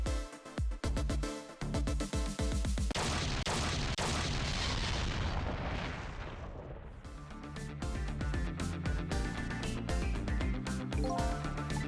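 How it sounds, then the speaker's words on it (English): Explosion in the Ghost Trick: Phantom Detective video game, a loud booming blast layered over dense, busy game music that swells and churns for several seconds before the music settles back in. "I think I heard an explosion somewhere"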